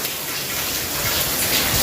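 Heavy rain pours down outside in a dense, continuous hiss and wash that swells slightly toward the end, loud and close, with no one talking.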